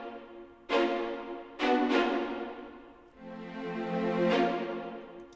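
Deep, brassy war horns blare in long sustained swells, several entries overlapping as the ensemble fades in for fantasy battle music, no voices.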